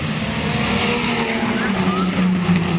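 Speedcars race in a heat at Maryborough Speedway in Queensland, a dense, loud wall of engine roar with faint tire noise, under a commentator's voice.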